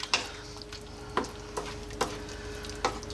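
A spoon stirs a spinach potato curry (aloo palak) with coconut milk and fresh cilantro in a pan. A soft, steady sizzle runs underneath about five distinct scraping strokes spaced irregularly, close and alone.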